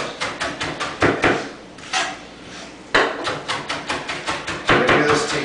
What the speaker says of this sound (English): you want to pinch the front of the blade, holding it down, and rock it back and forth